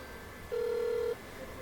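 A single steady telephone tone sounds for about half a second during a phone call being placed, clear over quiet room noise.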